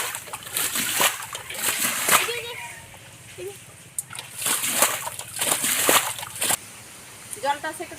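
Water splashes and sloshes as a small pit is drained to catch fish in a rural village. Uneven bursts of splashing come close by, and a voice is heard at times.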